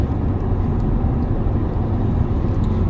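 A Toyota Veloz drives and takes a corner, a loud, steady low road-and-engine rumble heard from inside the cabin, with no voices.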